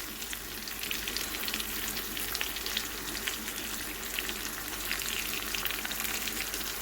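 Ground spices fry in a pan of oil for pui shak aloo chingri, a dense, even sizzle that holds steady and close throughout with no talking.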